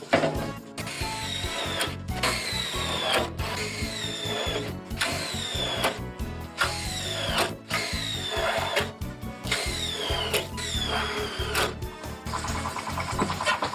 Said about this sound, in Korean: 복스 복스 렌치랑 요 볼트로 해서 구멍 뚫겠습니다